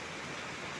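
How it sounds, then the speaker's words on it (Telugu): Heavy rain pours down as a dense, even hiss, loud and unbroken for the whole short moment, with no voices over it. "ఫుల్ పడుతుంది వాన, ఫుల్గా పడుతుంది"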